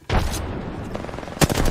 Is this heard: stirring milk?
no